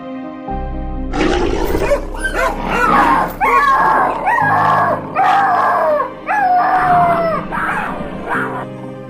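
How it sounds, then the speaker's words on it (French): A dog being attacked by a leopard yelps and howls in loud, repeated, strained cries over a low musical backing, the distressed bursts coming in uneven waves with short gaps between them. "l'un des léopards affamés a attaqué un chien sans pitié"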